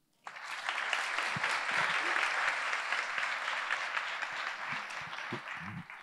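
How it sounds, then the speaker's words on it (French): An evening audience applauds a speaker at a talk in France, a dense wave of clapping that starts abruptly, holds steady and full, then thins toward the end. "Merci d'applaudir Julien."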